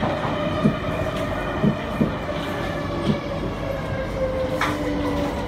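A metro train rumbles and clatters through a station with service towards Tuas Link and Jurong East, wheels clicking rhythmically on the rails, with a steady mechanical drone and occasional squeaks.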